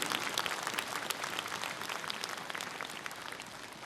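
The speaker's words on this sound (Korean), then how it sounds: "첫 번째로 연설해 주신 화엄사주지 덕문 스님께 저희 대중들의 동의, 동참의 결의를 담은 힘찬 박수를 다시 한번 보내주시기 바랍니다." A large crowd of monks and lay people at a national Buddhist monks' assembly gives a dense, steady round of applause after a speech by a temple abbot, loud and unbroken for a few seconds.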